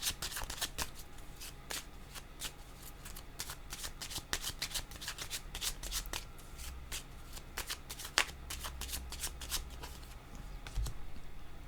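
Tarot cards shuffled by hand in a steady run of crisp riffling snaps, close and fairly quiet, with a faint low hum underneath and no talking.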